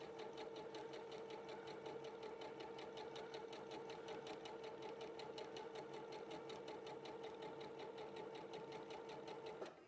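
Sewing machine running steadily and continuously, stitching gathering rows in fabric just inside the seam allowance with no reversing; a close, even mechanical whir and rapid needle rhythm throughout, with no talk.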